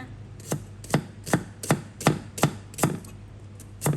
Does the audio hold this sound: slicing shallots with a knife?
yes